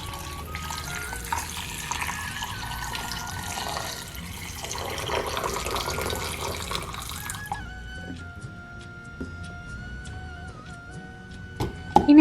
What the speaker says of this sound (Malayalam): പിന്നെ തിളപ്പിച്ചാറ്റിയ വെള്ളം കൂടെ ഒഴിക്കുക.